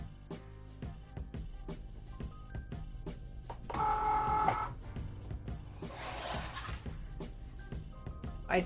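Cricut Maker with a fine point blade cutting thin faux leather, a quiet rhythmic run of small clicks and motor whirs, with a brief louder electronic whine partway through and scattered tapping throughout.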